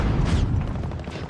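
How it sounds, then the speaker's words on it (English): A grenade explosion in Call of Duty Modern Warfare 2019 multiplayer, a single broad booming blast that quickly decays, close and fairly loud with no talk. "Throwing grenade."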